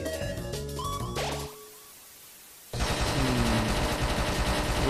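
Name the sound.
guns and bullets in video game Undertale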